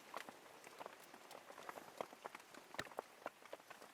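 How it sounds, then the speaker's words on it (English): Steady rain falling in a jungle, heard from inside a shelter: faint, even patter of drops with scattered louder taps, no voices. "But as you can see, it's still raining."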